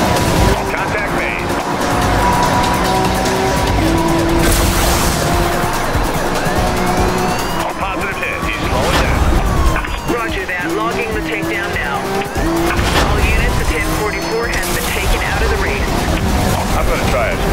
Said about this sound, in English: Be advised, suspect tires just blew